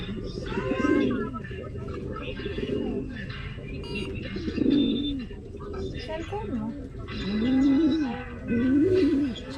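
Racing pigeons cooing close by, several deep rolling coos repeating in bursts, with a person talking over them throughout.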